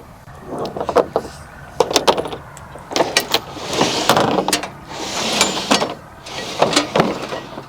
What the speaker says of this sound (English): hear that hydraulics popping.